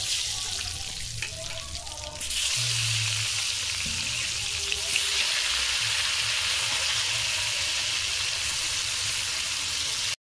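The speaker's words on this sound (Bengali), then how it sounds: "তেল গরম হয়ে গেছে, আলু দিয়ে দেবো।" Potatoes drop into hot oil seasoned with turmeric in a kadai, and the hiss jumps to a loud, dense, steady sizzle that carries on without pause, with no voices.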